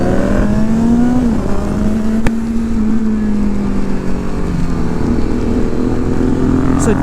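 A Kawasaki Z900 and a GT motorcycle ride toward Tirumala in rain and fog, their engines droning steadily and loudly up close with slight pitch shifts as they change speed, under rushing wind.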